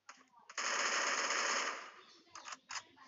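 Rapid automatic gunfire in a mobile battle royale shooter, fired as a sustained burst of about a second and followed by a few short pops, loud and close, with brief talk around it.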